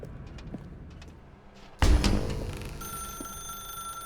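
Telephone rings in The Stanley Parable video game, a sudden sharp electronic ring that follows quiet ambience and sustains with bright, steady tones.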